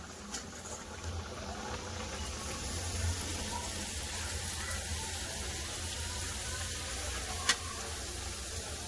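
Steady, continuous sizzling of kachoris frying in hot oil, close by, with a faint watery hiss throughout and one brief sharp click near the end.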